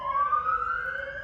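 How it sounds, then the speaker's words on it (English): An emergency siren with a steady, slowly rising electronic wail, heard fairly close and alone for a brief moment. "Ambulances."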